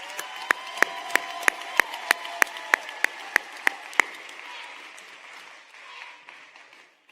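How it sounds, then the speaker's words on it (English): A graduation audience in Baltimore City gives applause for parents and families: about a dozen loud, evenly spaced sharp claps, most likely from one nearby person, over a murmuring crowd. Afterward the clapping stops and only soft crowd noise remains. "If we could all stand and give a big Baltimore City round of applause for our parents and families."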